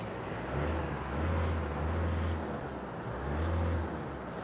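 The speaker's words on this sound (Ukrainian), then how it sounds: "треба прогазовочку зробити. Машина вже прогріта" A warmed-up 2019 VW Golf 1.6 diesel automatic idles low and steady, then revs up twice in smooth swells before settling back, close by with no talking.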